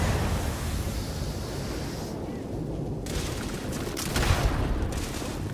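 Gunfire in Starfield, rapid bursts of shots over a dense noisy roar, with sharper volleys toward the end.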